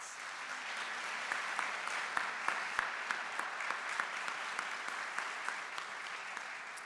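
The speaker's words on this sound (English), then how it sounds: "Can we give them a round of applause?" A fairly quiet but continuous round of applause rises from the audience at a 2025 university honors convocation for cabinet members, with scattered sharper claps standing out from the even patter.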